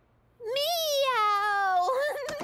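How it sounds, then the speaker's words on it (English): One long, drawn-out meow, loud and close, its pitch wavering before it trails off. "What did the cat say when someone stepped on its tail instead of ow?"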